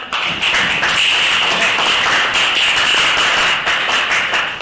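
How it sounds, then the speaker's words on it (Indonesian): Students in a classroom, divided into five groups, clap their hands together in a steady, dense burst of applause that stays loud and close throughout, with no voices standing out. "Kita tepuk tangan untuk kita semua."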